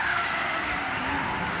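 A Toyota GR86 skids with squealing tires at Tsukuba Circuit, pushing into slight understeer; the squeal is a sustained, fairly close screech over engine and road noise.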